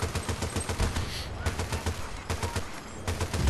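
Rapid automatic gunfire fills the scene in Battlefield Bad Company 2 on Arica Harbour, dense bursts of shots as cover fire, loud and continuous with no gaps, no voices.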